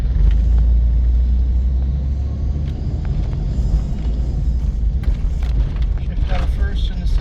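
A 1998 GMC Safari van drives slowly through a residential street with the AC running, giving a steady loud engine and road rumble as the transmission shifts from first to second, while a voice talks over it.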